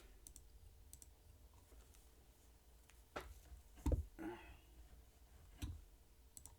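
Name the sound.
computer keyboard key clicks while typing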